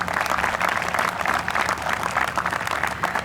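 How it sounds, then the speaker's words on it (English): A large audience at the FLAME University convocation ceremony bursts into sustained, dense applause, loud and even from start to finish. "Please join me in welcoming him with, again, a huge round of applause."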